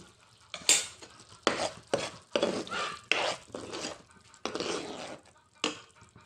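Egg curry is stirred in a pan with a spoon, giving a series of close scraping and clinking strokes in uneven bursts separated by short pauses, with no talk over them.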